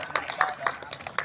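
A small group at a school literacy readathon claps for a student, about half a dozen separate, fairly regular claps spaced around a quarter second apart, close and moderately loud, with voices mixed in.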